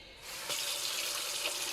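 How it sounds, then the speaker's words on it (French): Hot water gushes from a kitchen tap into a sink, a faint, steady hissing rush that starts abruptly and runs on continuously. "Donc j'ai fait couler mon robinet."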